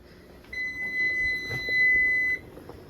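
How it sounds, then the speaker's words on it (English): An oven timer beeping in a home kitchen: one steady, clear electronic tone held for nearly two seconds with a short break partway, against faint room noise. "there's my oven timer going off"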